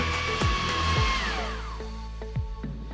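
Blender whizzing a whiskey and vanilla mixture for an ice cream sandwich filling, a steady loud motor whine that shifts pitch as the blades spin, with several short knocks from the jar over about three seconds.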